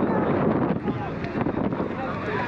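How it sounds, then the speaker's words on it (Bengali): A service boat carrying passengers across open water toward Sandwip, its steady engine and water rush mixed with strong wind buffeting close to the microphone, continuous throughout. "এই হচ্ছে সার্ভিস বোট।"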